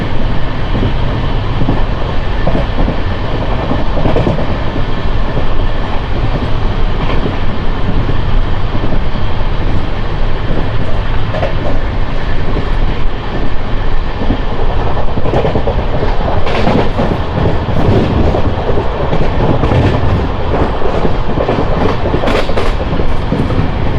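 The Palnadu Express, an LHB-coach train running from Guntur to Vikarabad, rushes through Srirampuram station without stopping, a loud continuous rumble of wheels with clickety-clack rhythm and rattling, heard from on board.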